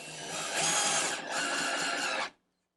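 Altocraft 20V cordless drill/driver sinking a screw through an extension, a steady close whirring motor run for about two seconds with a brief dip in the middle, then cutting off abruptly into silence.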